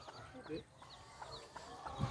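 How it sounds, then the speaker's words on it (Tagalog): A chicken on a Filipino farm near a fish pond clucks in a few soft, short calls, faint and somewhat distant, amid quiet background noise. "Manok."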